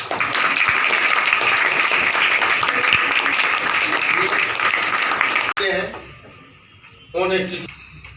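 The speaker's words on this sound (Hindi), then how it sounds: "उन महापुरुषों के नाम पर हम लोग एक बार जोरदार ताली बजा करके आत्मा की शांति के लिए हम स्वागत करें।" Loud, sustained clapping from an audience at a National Mathematics Day event, filling the room for over five seconds before cutting off abruptly, followed by a voice speaking.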